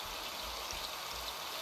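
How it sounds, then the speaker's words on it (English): Steady rain falls in the survival game Raft as a storm sets in, a soft, even hiss of pattering drops with a faint low rumble underneath, no talking. "Oh, well, we've got rain."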